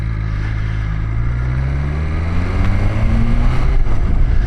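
A 2020 BMW S1000XR motorcycle engine pulls away, its drone climbing steadily in pitch as the rider accelerates, loud and close throughout with no talking.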